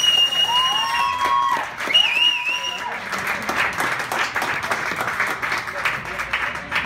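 An audience at a live music show applauds a performer, with mixed clapping and crowd noise, while a voice talks over the start and musical tones ring out early.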